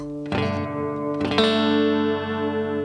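Electric guitar notes played through a reverb pedal ring out with a long, washy reverb tail, a second strum layering over the first and sustaining to the end.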